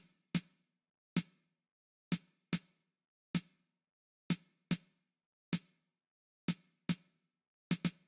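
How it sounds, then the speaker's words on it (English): Sharp, isolated snare hits from an afrobeat in an uneven rhythm, about a dozen crisp strikes separated by silence, with no other instruments audible. "In the last section, I just added these snares."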